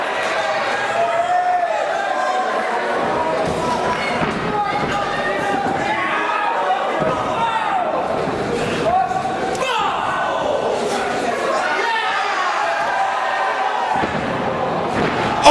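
Wrestlers trade boots and elbows in the corner at a live FWA event in Newport, heavy slams and thuds landing under constant loud crowd noise and excited commentary throughout.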